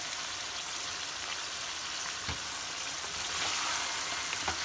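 Vegetables sauté in a pan for veg and chicken biryani, seasoned with chili powder, coriander powder, turmeric and salt, giving a steady close sizzle and hiss with occasional soft clicks from stirring, no voices.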